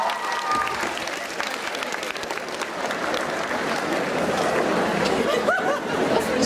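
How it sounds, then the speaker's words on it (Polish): Steady, dense audience applause at a concert, sustained and fairly loud throughout, with faint crowd chatter and a brief whoop near the end. "wielkie brawa dla nich, kochani"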